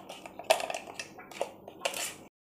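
A knife pries set homemade butterscotch off a plate, giving close, quiet clinks, taps and crackling snaps in irregular bursts with a scrape near the end.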